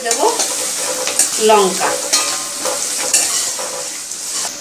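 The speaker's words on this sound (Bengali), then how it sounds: "রসুনটা একটু ভেজে ভাজা হবে" Crushed garlic sizzling in hot oil in a pan, a steady close crackle with occasional stirring scrapes, and someone briefly speaking over it.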